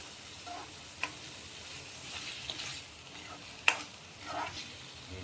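Fresh cashew vegetable with tomato being sautéed in a pan, a soft sizzle with light spoon scrapes and a few sharp clicks against the pan, fairly quiet and close.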